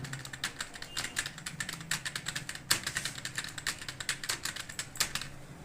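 Rapid keystrokes clatter on a computer keyboard in a steady, slightly uneven stream of close, crisp clicks, some sharper taps standing out, with no voices.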